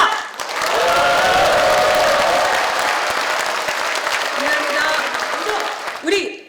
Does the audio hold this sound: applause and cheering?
yes